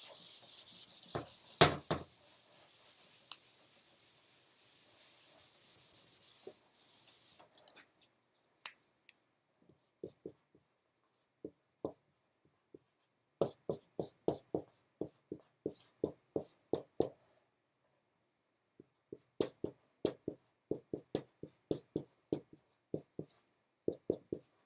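Chalk or marker writing on a board during a math lecture: short, dry tapping and scratching strokes in quick irregular clusters, fairly close and faint, with no talking over them.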